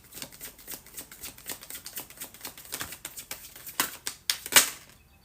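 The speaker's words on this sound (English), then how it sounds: "I'm going to go ahead and shuffle from the tarot here" Tarot cards being shuffled by hand, a steady run of crisp riffling flicks close up that builds to a few sharper snaps near the end, with no talking.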